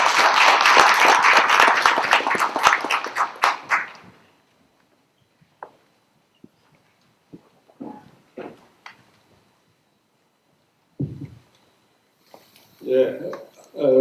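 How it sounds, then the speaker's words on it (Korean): Hearty applause greets the opening speaker at an institute's launch ceremony, dense for about four seconds before dying away into scattered rustles, shuffles and a brief voice. "큰 박수 부탁드립니다."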